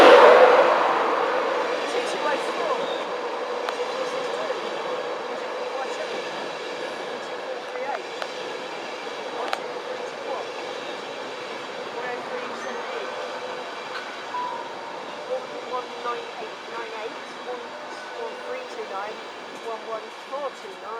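Class 91 electric locomotive 91107 in Skyfall livery passing through Stevenage station, a steady rolling rumble with faint rail squeals, loudest at the start and easing off as the train moves away.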